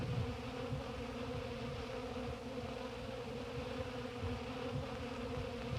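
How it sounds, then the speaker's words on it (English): Honey bees buzzing around a hive, a dense continuous drone of many insects close by, steady and even in loudness with no voices. "When the pouch is empty, naturally, the bee takes right off right away for another load."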